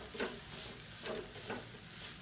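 Cooked basmati rice being stirred with curry leaf powder in a pan, three soft scraping strokes over a faint sizzle, quiet and close with no talking.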